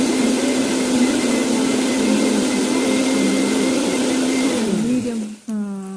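A mixer grinder blends cooked pomegranate seeds with a loud, steady motor whine held for several seconds. It then winds down sharply near the end, with the motor pitch falling away.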